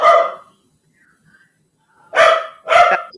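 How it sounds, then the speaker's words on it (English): A dog barks loudly and close by, one sharp bark followed after a pause by two more in quick succession, with near silence between. "My dogs are getting ready to go crazy."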